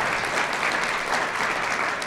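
Dense, steady applause from an audience at a university leadership awards ceremony, many hands clapping together in a broad, continuous wash with no voices over it.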